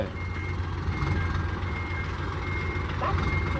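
An Isuzu 360 trailer truck reverses, its steady backup beeper sounding over a low engine rumble while people talk nearby.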